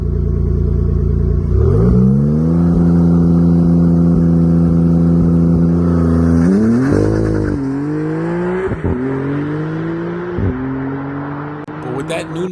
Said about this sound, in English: Maserati actually made its engine sound heard earlier this year for the MC20.